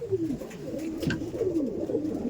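Madras pigeons coo steadily and close, with low rolling calls repeating throughout and no talk over them.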